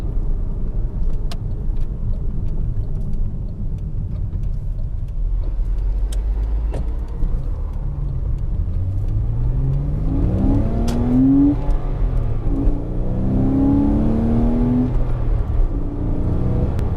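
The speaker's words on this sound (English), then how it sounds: "As the engine is just right behind you, it is somehow closer to your ears" Porsche Boxster mid-engine right behind the driver, a low steady drone that swells into rising revs as the car accelerates through the gears, heard close from inside the cabin with no talking.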